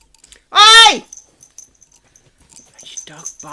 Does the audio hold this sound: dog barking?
yes